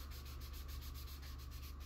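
Sandpaper rubbed back and forth along a cardboard body tube of an Estes Hi-Flier XL model rocket, a steady close scratchy swish in even rhythmic strokes with no voices.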